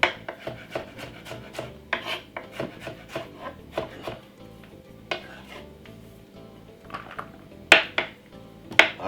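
Knife rapidly chopping about six garlic cloves and a piece of ginger very finely on a board, a steady run of close, crisp taps and cuts with a few heavier knocks, no talking.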